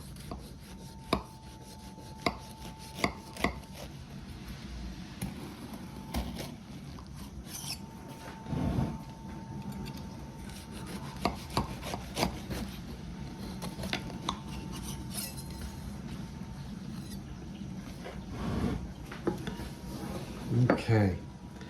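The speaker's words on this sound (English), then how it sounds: "Now, let's cut a little slice out of it, shall we?" A knife slicing into a pizza rustica, with scraping, tapping and clinking against a plate or pan, close and intermittent, in short bursts over a quiet kitchen, with a person speaking now and then.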